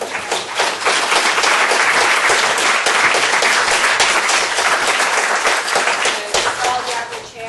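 An audience at a community leadership event applauds, with dense, steady clapping filling the room for several seconds before tapering off slightly at the end.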